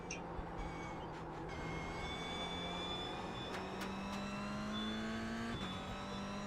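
A race car in iRacing at Bathurst holds a steady engine drone, shifting up through the gears with abrupt pitch drops, then braking hard, heard alone with no talk.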